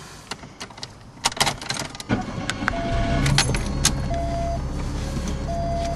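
A Volkswagen Jetta setting off for a drive: key jingles and door or seatbelt clicks, then a steady engine hum rising as the car pulls away at night, close and moderate in level.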